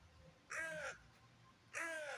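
Crow cawing outdoors, two loud harsh caws with a pause of about a second between them, heard alone against faint background ambience.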